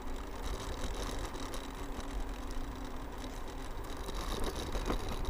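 A scooter engine labours steadily up a long, steep road climb, a constant mid-pitched drone with rushing wind noise throughout and no talk.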